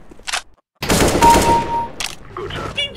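Rapid gunfire from a shotgun in a first-person video game, a loud dense burst lasting about a second after a brief pause, with short shots before and after and excited voices nearby.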